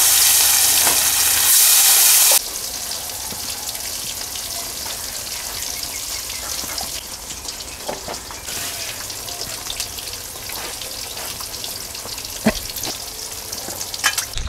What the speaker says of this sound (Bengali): বেগুন ভাজা করব, বেগুনটা কেটে নিচ্ছি।